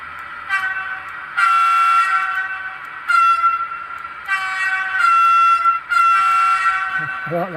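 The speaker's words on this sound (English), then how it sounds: "I like that double horn." A Roco 70485 model locomotive fitted with an ESU sound decoder sounds its double horn in several sustained two-tone blasts of varying length, loud and close, with short gaps between them and a small clunk at the end.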